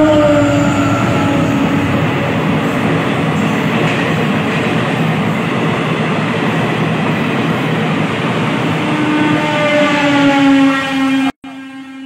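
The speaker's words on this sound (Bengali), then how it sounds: "আবার একটি ট্রেনের শব্দ শুনতে পেলাম" A train passes close by, loud and continuous, its wheels rumbling and clattering over the rails while a horn sounds tonal blasts at the start and again near the end.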